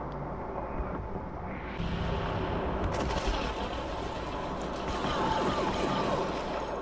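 Dense blaster gunfire and explosions roar through a Star Wars Battlefront battle, a continuous loud wash of shots with rumbling blasts and no clear voices.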